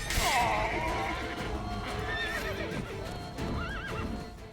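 In The Witcher 3, a horse whinnies loudly during mounted combat, followed by clopping hooves, crashing impacts and more neighing, all close and busy throughout.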